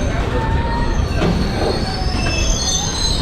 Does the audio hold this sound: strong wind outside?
no